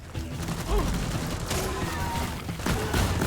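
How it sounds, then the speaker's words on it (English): Gunfire poured into a hole during a Deep Rock Galactic mission, heard as sustained, fairly muffled rapid shots mixed with mechanical clanks and game ambience. "I'll just shoot into this hole"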